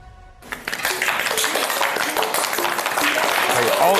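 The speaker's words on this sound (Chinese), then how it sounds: "现场鼓掌了，现场鼓掌了" Studio audience applause breaks out after a closing debate speech on a Chinese reality show, rising at once from near silence into sustained, dense clapping that stays loud and steady to the end.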